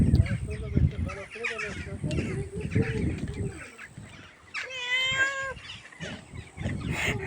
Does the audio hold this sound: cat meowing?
yes